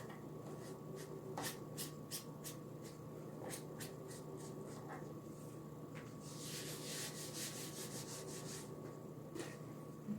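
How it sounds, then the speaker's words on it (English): Scrubbing paste out of a Chalk Couture silkscreen, faint close rubbing and scratching strokes in short bursts with pauses, over a low steady hum and no speech. "I'm just trying to get some of that paste out of that screening."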